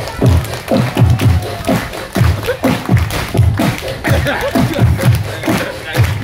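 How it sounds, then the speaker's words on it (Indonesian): Children at an outdoor storytelling gathering clap together in a loose, repeated rhythm, dense thumping claps with crowd noise and voices mixed in throughout. "Yuk tepuk tangan bareng-bareng"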